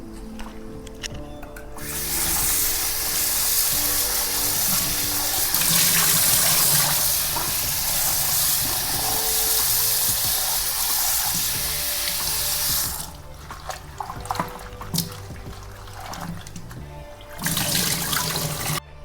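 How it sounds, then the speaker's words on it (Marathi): Leafy wild greens are rinsed under a running tap in a sink, gritty with soil, with a steady rushing stream of water for most of the time, then quieter splashing and handling before the flow surges again. "दोन तीन पानाने मस्त धुवून घेणार आहे मी भाजी"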